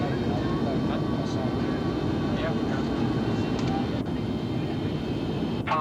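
A steady, loud roar fills the cabin of a Concorde airliner as it descends toward landing at London. The broadband rush is continuous, with faint voices underneath.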